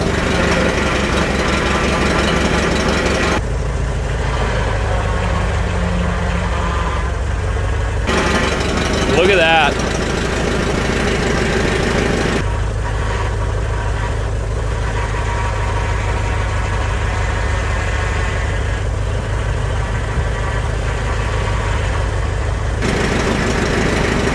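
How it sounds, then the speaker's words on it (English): An old Farmall tractor engine runs steadily on a cold day after years of sitting, a loud continuous idle that holds through the clip while someone talks over it. "Let's see if these hydraulics work."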